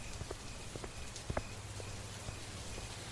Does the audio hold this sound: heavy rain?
yes